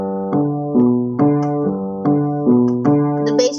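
A bowed cello plays a slow line of sustained, resonant notes, each smoothly joined to the next, close and full with no other sound.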